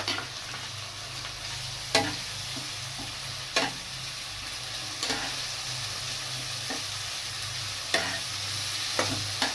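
Ginger, garlic and green chilli paste fries in a pan for a duck egg curry, hissing in a steady, fairly loud sizzle with occasional sharp clinks from stirring.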